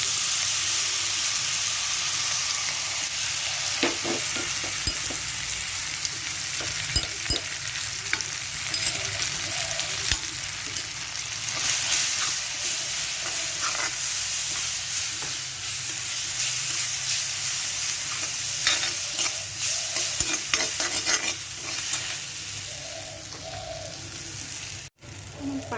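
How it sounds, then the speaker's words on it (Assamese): Spices sizzle and fry in hot oil for a soybean curry, a steady crackling hiss with occasional scraping stirs, close and continuous throughout. "মছলাখিনি সেই তেলখিনি দি দিব লাগিব।"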